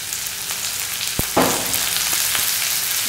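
Tomato and meal maker (soy chunks) sautéing in a pan with ginger paste, a steady close sizzle with a sharp tap and a brief louder flare of crackling midway, no voices.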